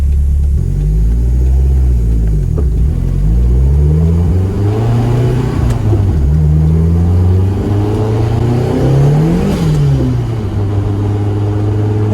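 A turbocharged BMW 320i E21 with a swapped M42 engine running on E85 revs up loudly and accelerates, dropping pitch at each gear shift before climbing again, a steady close rumble throughout.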